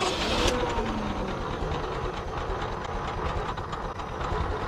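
A 1905 Mitchell D4 Roarabout car engine catches with a brief burst, then settles into a steady, fairly quiet mechanical run with fine rhythmic clicking, with no voices.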